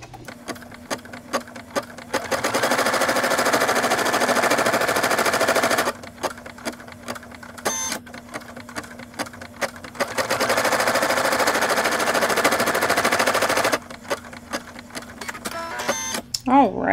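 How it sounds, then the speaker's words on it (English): An embroidery machine stitches applique placement lines in the hoop, two long loud bursts of rapid mechanical stitching separated by quieter gaps with a person talking. "our next stop is going to be the placement stitches for our applique fabric"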